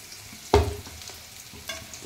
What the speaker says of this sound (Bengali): একটু ভেজে নেব। ভেজে নিলাম।